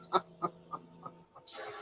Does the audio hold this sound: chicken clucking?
yes